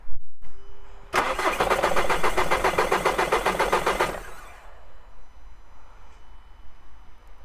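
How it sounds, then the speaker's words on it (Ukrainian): A VW Passat TDI diesel engine cranks and fires after sitting unused, a loud steady three-second starter churn that catches into a quieter, settling idle, heard close with no talk. "Будемо перший старт заводиться."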